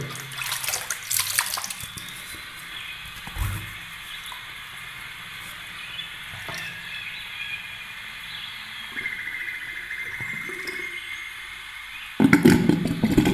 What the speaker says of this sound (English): Just get some fresh water.